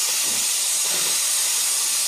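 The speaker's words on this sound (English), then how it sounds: "Start up your steam. We try to purge it. Get a good steam going." Steam wand purge on a Breville Bambino espresso machine: a loud, continuous hiss of steam runs unbroken from start to finish at close range.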